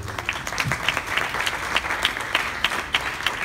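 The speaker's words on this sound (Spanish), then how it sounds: "Un aplauso." An audience claps for a speaker at an animation industry talk in Spain, steady mid-level applause from a moderate crowd throughout, slightly distant.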